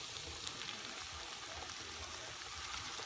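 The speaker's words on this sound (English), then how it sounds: "right now I'm just browning the chicken, and I brown it in a little bit of like half a stick of butter and then some olive oil" Chicken browning in a pan in butter and olive oil with garlic cloves, a faint, even hiss of sizzling fat that holds steady throughout without talk.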